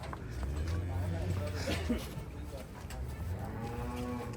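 A large, strong milk buffalo moos at a farm sale, a long low call near the mic, while people talk over and around it.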